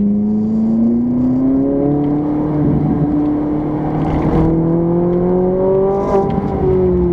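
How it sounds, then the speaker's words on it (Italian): A Ferrari 458 Italia V8 engine on a race track, heard from on board: a loud, sustained rising engine note climbing steadily through the gears with brief shift dips, close and continuous, with no talk. "questa la macchina si sente da 10 km"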